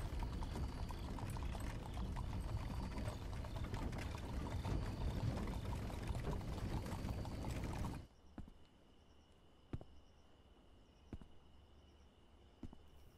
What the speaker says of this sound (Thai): รถม้าไม่ได้หยุดเลย